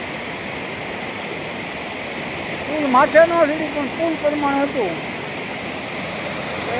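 Floodwater pours over a waterfall beside a village bridge on a flooded river, a steady, heavy rushing roar throughout, with someone speaking briefly over it midway.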